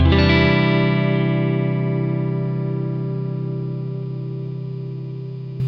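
A Gusta Harel S125 electric guitar rings out a single sustained chord with a different tone setting, distorted with a chorus-like shimmer, decaying slowly over several seconds before a faint new attack at the end.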